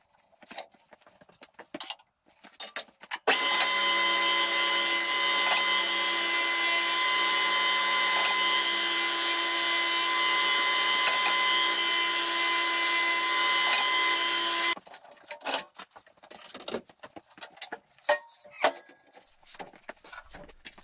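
A planer cuts wood for table tennis racket veneers, a loud steady roaring whine that starts abruptly, holds for about eleven seconds and then stops, with quieter handling clatter before and after.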